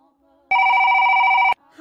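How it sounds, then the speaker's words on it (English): An old-style telephone bell rings loudly in one sustained burst of about a second, preceded and followed by faint voices. "How is it ringing? It's not even plugged in."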